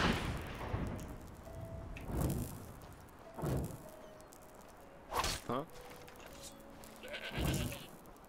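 Goat in the fantasy video game Enderal giving a few short, nasal bleats in separate bursts over quiet game ambience, with a voice talking in between.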